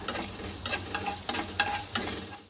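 Cumin seeds and ginger tempering in hot oil in a pan give a steady close sizzle, broken by several sharp scrapes and taps of a stirring spoon.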